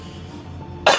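A single short, sharp cough breaks in abruptly at the end after a moment of quiet room tone.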